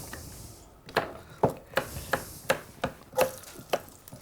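A knife chops vegetables into small flat squares on a board, a steady series of crisp, close taps about every third of a second with a quiet room behind.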